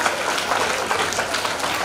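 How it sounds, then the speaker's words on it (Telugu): Applause for students performing at a school Sankranthi celebration, a dense, steady wash of many hands clapping throughout, close and loud. "మన విద్యార్థులకు మరొకసారి గట్టిగా చప్పట్లు"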